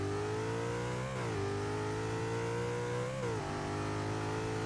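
Engine of a car in Forza 6 revving hard as it accelerates from a launch on a quarter-mile run, heard from the interior view, with steady loud drone and two clear gear shifts dropping the pitch before it climbs again.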